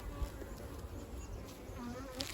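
Honey bees buzz steadily around an opened top bar hive during an inspection in Australia, a continuous close drone with no talk.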